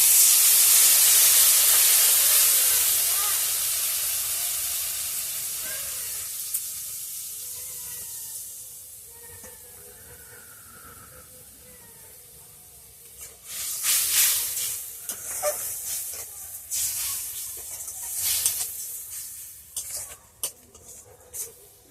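Water splashed onto turmeric and ground spices frying in a pan for a village-style snakehead fish curry with potato and cauliflower bursts into a loud hissing sizzle that slowly fades, followed by scattered scraping and stirring clatter.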